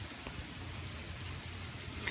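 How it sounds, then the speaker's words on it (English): Steady rain falls outside on Christmas Eve, heard from a garage. A soft, continuous patter comes through faintly, with no voices. "there's rainy weather on Christmas Eve."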